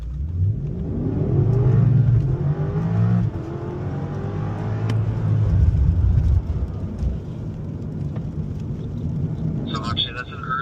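A BMW accelerates around a driving school track in Spartanburg, its mid-pitched engine note rising and holding steadily, with an instructor talking over it throughout.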